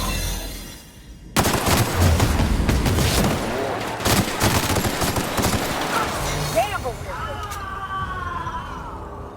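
Loud, sustained gunfire in the video game The Outer Worlds breaks out after a quiet moment, with dense volleys and bursts of shots rattling on for several seconds before easing.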